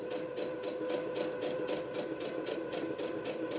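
A sewing machine stitches fabric with bright red thread along a short straight side, a fast even mechanical whir with rapid regular needle pulses, close and continuous without pause.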